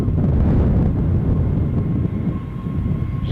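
A China Southern jet at Amsterdam Schiphol airport rumbles as a loud, steady, low engine roar in this short stretch, with no one speaking.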